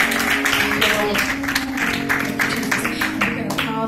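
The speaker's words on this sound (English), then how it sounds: "Give the Lord a hand clap." Congregation at a Vacation Bible School church service claps hands steadily throughout, a dense continuous patter of applause with a sustained musical or voice tone beneath it.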